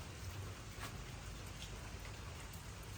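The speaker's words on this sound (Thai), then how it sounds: "ฝนนี่ยังบ่มีทีท่าว่าจะหยุดเลย" A downpour falls without pause, a thick continuous wash of rain on surfaces near a hillside, a few faint drop hits standing out, no talking.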